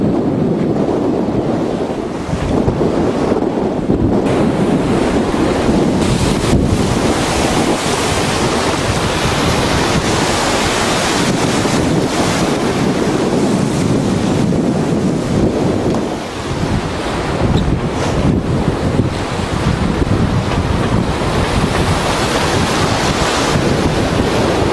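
Strong wind of about 35 knots roars across the microphone while waves surge and splash around a Gemini catamaran under sail, a loud, continuous rush with gusting swells that never lets up.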